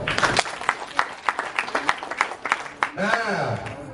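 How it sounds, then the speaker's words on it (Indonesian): Scattered hand claps from a crowd at a mega conference in Jambi, arriving in uneven rhythmic bursts for about three seconds before a voice starts talking. "MMM, tepuk tangan dong"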